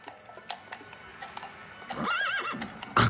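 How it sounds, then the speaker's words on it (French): Horses in Paris neigh loudly with a rising and falling whinny, close by, while hooves clip-clop in an irregular rhythm on the street around it. "Des chevaux dans Paris."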